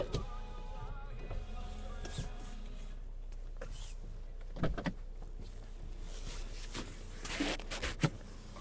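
Electric windows on a petrol Volkswagen Golf Plus 1.6 MPI whir up and down quietly inside the car, with faint clicks and thumps as they stop.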